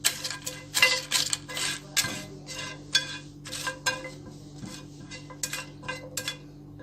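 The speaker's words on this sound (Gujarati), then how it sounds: "આપણે 2 મિનિટ માટે આને ડ્રાય રોસ્ટ કરવાના છે" Spices dry roast in a little oil in a pan over a slow flame, a spoon scraping and clinking against the metal in a steady, uneven rhythm, close and clear without talk.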